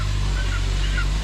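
A dense, steady din of Raptor-breed chickens fills the space, with scattered clucks and calls over a constant low background rumble.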